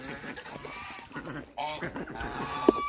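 Hens of mixed ages, including New Hampshire Reds, Brahmas and Mystic Onyx chickens, cluck and murmur close by in a noisy coop, with one short sharp squawk near the end.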